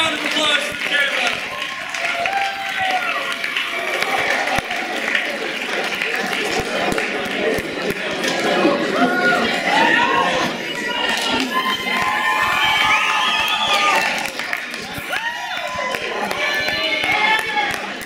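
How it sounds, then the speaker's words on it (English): A fall school concert audience gives Caleb a big round of applause, with sustained clapping, cheering and excited children's shouts rising and falling throughout, and some voices mixed in. "Big round of applause for Caleb."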